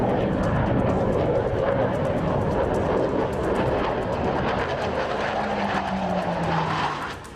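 A Chengdu J-20 stealth fighter jet passes with a loud, continuous roar. A whining tone rises and falls through it, and the sound tails off at the very end.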